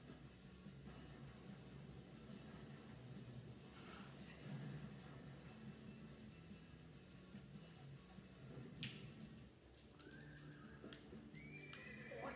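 A horse in the Disney Infinity 1.0 Lone Ranger video game whinnies and its hooves clip-clop steadily, faint and continuous under game ambience.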